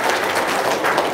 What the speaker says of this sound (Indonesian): Sep, tepuk tangan dong.